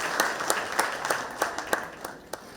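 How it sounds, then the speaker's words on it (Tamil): Applause at a Pongal festival gathering honouring scientists and farm workers, a group clapping in a loose, fairly regular rhythm of sharp claps that gradually softens. "எல்லாரும் ஒரு கைத்தட்டல்"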